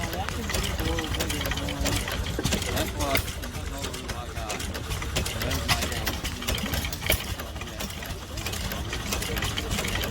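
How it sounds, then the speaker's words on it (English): A Gade gas engine running steadily at a tractor show, a continuous rhythmic chugging with mechanical clatter, close and fairly loud, with people talking over it. "nice running engine"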